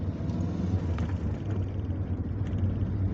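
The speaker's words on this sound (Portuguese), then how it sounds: "Quando é assim de baixa rotação, tá mais Flutter do que de alta." Turbo flutter from a VW Parati 1.0 16v turbo engine at low revs: a close, steady engine rumble with faint fluttering chatter running through it, no voices.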